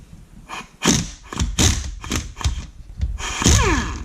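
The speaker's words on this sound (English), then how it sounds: "I'm gonna hit it with my blue cobalt air impact wrench and see if I can get it to break free" A blue Cobalt air impact wrench hammers at a rusted oil drain bolt on a 2001 Honda CR250 engine in a series of close, loud, choppy bursts with thuds between them.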